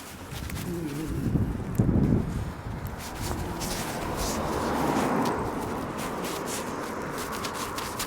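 Gusty wind on a chilly downtown street rumbles and buffets close to the microphone in a continuous low roar that swells midway, with light street noise beneath.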